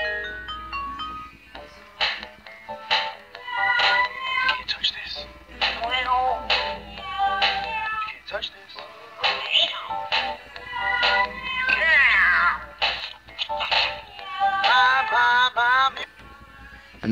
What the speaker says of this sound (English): And then we've got this dancing cat again.